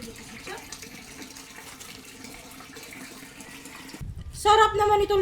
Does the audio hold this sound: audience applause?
no